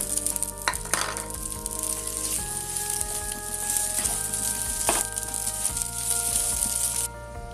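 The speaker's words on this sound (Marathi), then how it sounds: "आता त्यामध्ये आपण भात घालूया." Cooked rice stirred into egg masala in a hot pan gives a loud, continuous sizzle broken by scraping stirring strokes, with the frying cutting off suddenly just before the end.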